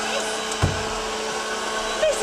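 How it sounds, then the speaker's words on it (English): A household vacuum cleaner runs in a 1972 Coronation Street scene, a steady mid-level whirring drone with a couple of brief bumps and a voice faintly present. "The vacuum can wait."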